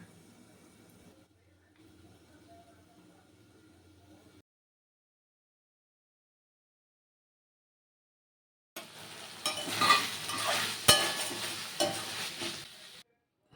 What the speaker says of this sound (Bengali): হয়ে গেছে পাঁপড় ভাজা